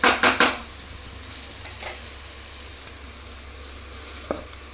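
Chicken pulao being stirred in a metal pot, three quick clanking scrapes of a spoon at the start, then a few faint taps over quiet background hum.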